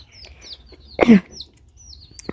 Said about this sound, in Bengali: এই যে এ হচ্ছে মুরগির বাচ্চা